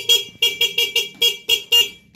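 A motorcycle horn, just repaired after not working, honks loudly in a rapid series of seven or eight short beeps at close range, with nothing else heard around them.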